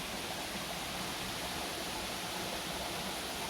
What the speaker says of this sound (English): Nice little river area.